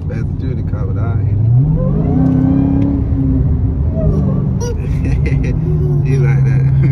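A 2022 Dodge Challenger Hellcat Redeye accelerates hard on bald tires, its engine note climbing in a loud, rising rev that holds a high pitch for a moment and then settles into a steady roar, with people talking over it.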